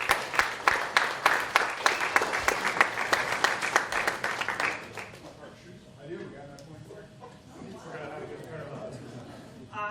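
An audience gives a welcoming round of applause at a Point Park University session for Steve Tanzilli. The clapping is rhythmic and fairly loud for about five seconds, then fades into faint room murmur.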